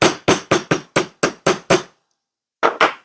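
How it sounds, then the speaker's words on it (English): Steel hammer striking a metal oval jump-ring form on a steel mandrel, eight sharp, evenly spaced ringing blows, then a pause and two more close, loud strikes. "Hammering the whole length of this long side of the oval."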